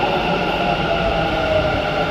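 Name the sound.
Bengaluru metro train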